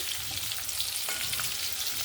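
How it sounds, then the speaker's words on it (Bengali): Capsicum and potato pieces stir-fry in hot oil for a chicken curry, a dense, steady close-up sizzle with faint stirring scrapes and no voices. "এটাকেও তেলের সঙ্গে একটু নেড়ে নেবো"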